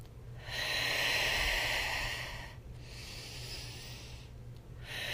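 Slow, deep breaths are drawn during a guided relaxation exercise: a long airy inhale, then two shorter breaths, close and breathy with no talk.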